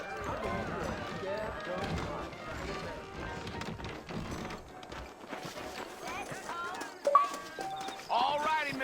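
Horse hooves clip-clop at a steady walking pace in the Red Dead Redemption western video game, moderately close, mixed with game ambience and a voice talking over much of it.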